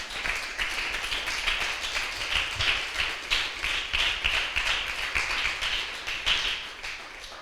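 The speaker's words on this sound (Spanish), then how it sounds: "Denle un fuerte aplauso" A church congregation gives a sustained burst of applause, dense overlapping hand claps rising to a steady roar that keeps up throughout, with a faint voice or two mixed into the crowd noise.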